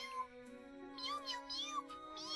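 A Cheagle, a small creature in the video game Tales of the Abyss, gives several short, high cat-like cries over a steady musical backdrop.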